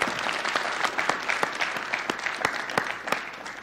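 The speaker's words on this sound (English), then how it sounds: "Let's have a big round of applause for Kia" An audience applauds after a basketball shooting demonstration, clapping steadily, with individual sharp claps standing out at close range.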